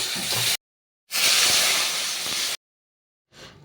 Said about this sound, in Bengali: মশলা কষানো হয়ে গিয়েছে, জল দিয়ে দেবো